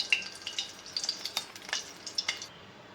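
About three spoons of hot oil in a preheated wok, producing a faint, crackly sizzle with scattered small pops and ticks, close by and with no talking.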